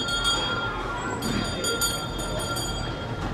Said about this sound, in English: Here's that train I was talking about that drives around.